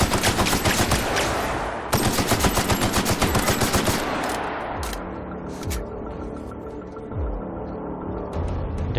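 Rapid automatic gunfire in the shooter game The Outer Worlds, a loud, dense stream of shots in steady bursts that thins into scattered, more distant firing and impacts.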